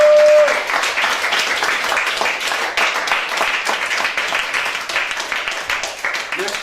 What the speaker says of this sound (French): une onde hertzienne d'applaudissements pour Mistral TV